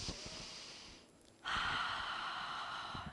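A deep reset breath taken during a gentle yoga session: a steady breathy exhale fades to a brief quiet pause, then a strong inhale or exhale rushes in close to the microphone and holds.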